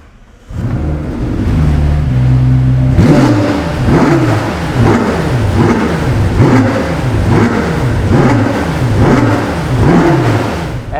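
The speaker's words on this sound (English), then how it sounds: "let's listen to this exhaust note." A 2019 McLaren Senna engine idles, then revs hard, its loud exhaust note rising and falling through repeated sweeping pulls. The engine sounds close and dominant, with no talking.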